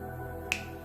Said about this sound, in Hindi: यूं चुटकी में।